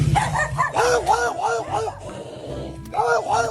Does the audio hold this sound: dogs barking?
yes